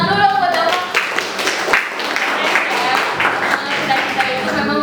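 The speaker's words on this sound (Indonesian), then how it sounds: "tepuk tangan dulu buat Dava" A classroom group claps for a student during a physics teaching session, brief scattered applause mixed with voices and chatter.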